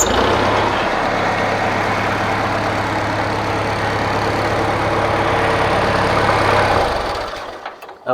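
A 1955 IH Farmall Cub tractor idles with a steady low, loud engine rumble that runs for several seconds, then sputters and dies out as the engine runs out of gas, leaving near silence.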